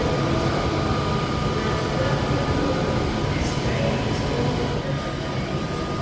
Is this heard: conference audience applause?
no